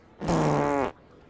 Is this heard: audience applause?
no